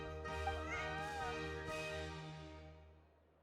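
A cat named Bonnie in Genshin Impact gives a clear, close meow that rises and trails off, stretching over a few seconds against a soft ambient music bed.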